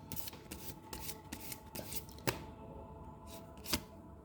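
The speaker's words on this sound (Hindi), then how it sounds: "मैं थोड़े से कार्ड भी निकाल लेती हूँ।" Tarot cards are shuffled by hand, quiet and close, producing a rapid run of soft flicking riffles punctuated by two sharper snaps, with no talk.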